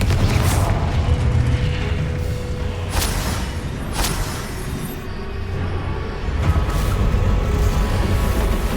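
The Confringo fire spell goes off in the game Hogwarts Legacy as a series of booming blasts and bursts over a steady rumble of game sound.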